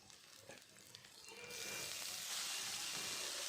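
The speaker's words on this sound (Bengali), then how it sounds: "শাকটা এবার পেঁয়াজের মধ্যে ঢেলে দিলাম" Chopped radish greens hit hot frying onions in a pan, and a loud, steady sizzle suddenly swells up and holds over quieter kitchen noise before it.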